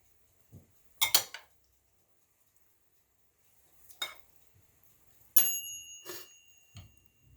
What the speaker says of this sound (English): If you heard that little ding, that was the little oven going off.